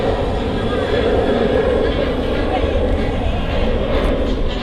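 A Ryanair jet departs Manchester Airport, its engines giving a steady, broad roar that stays loud and constant throughout, with faint voices mixed underneath.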